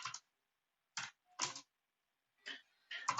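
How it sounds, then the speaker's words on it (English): Computer keyboard typing in short separate bursts of clicking, a few keystrokes at a time with silent pauses between them, close and fairly quiet, no voices. "so I'll type it out for you"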